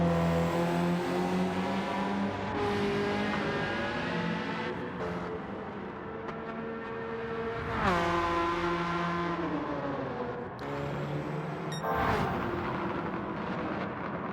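Ferrari F40 race car driven in a racing video game league race, its engine revving up and down through gear changes with a loud, continuous harmonic whine and occasional downshift blips, with other cars heard nearby.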